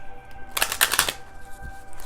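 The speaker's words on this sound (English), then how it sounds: "I know it's a long shuffle." A deck of tarot cards gets a quick riffle shuffle, a close, crisp burst of flapping card edges lasting about half a second over a quiet room.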